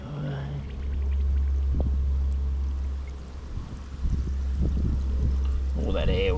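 A potted water lily sinks slowly into a backyard pond as trapped air escapes in soft, intermittent gurgles and splashes over a low rumbling background, with a brief voice near the end.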